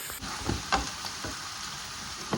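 Chopped tomatoes are tipped into a pan of browned onions, and a soft, steady sizzle of frying follows, broken by a few quiet clinks and stirring sounds.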